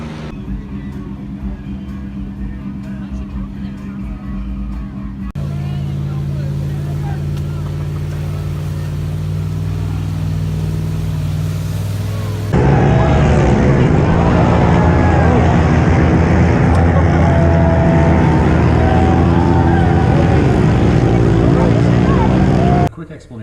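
Pit bike engines racing at a night pit bike race held alongside the Motocross of Nations, a loud steady drone of small engines that grows fuller and louder partway through, with crowd noise mixed in.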